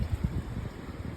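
Strong wind on the Arizona Trail buffeting the microphone, a short burst of low, gusty rumbling with uneven thumps, loud and close.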